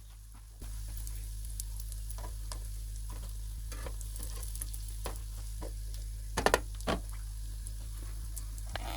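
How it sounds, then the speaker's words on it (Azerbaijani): Food fries quietly in a pan under a steady low hum, with scattered stirring clicks and a few sharper spatters. "qoyuram içinə, qızardıram, qurtardı."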